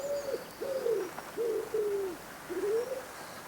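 A wood pigeon, a heavily built garden bird with white neck patches, gives a series of four soft, moderately close cooing phrases with short pauses between them, alone against quiet background.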